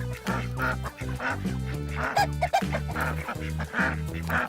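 Several Silkie chickens call repeatedly nearby, honking and clucking tones overlapping in a busy, continuous chorus.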